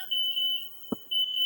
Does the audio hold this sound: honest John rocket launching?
no